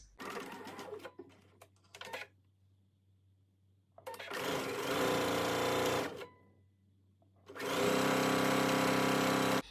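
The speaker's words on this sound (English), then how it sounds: "We're going to sew along the short end, pivot and go down the long end." Sewing machine stitching a midi skirt seam, with a short stuttering start, then two sustained loud whirring runs separated by a pause at the pivot, close and alone.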